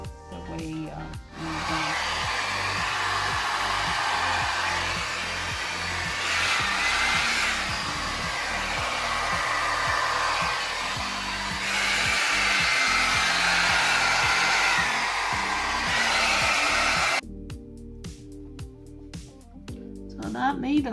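Acrylic paint being blown across a Dutch pour painting, a continuous loud, breathy rushing blast like a hair dryer, swelling in two long surges for about 17 seconds before cutting off abruptly to quieter room noise.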